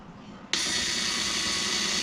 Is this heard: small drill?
yes